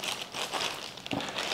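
The plastic bag packaging an AirLife bag valve mask crinkles and rustles up close in continuous handling, with a few sharper crackles and no talk.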